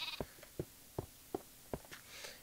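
Blocky Minecraft sheep bleat in a short series of five evenly spaced, clear calls, close and distinct, with no talking over them.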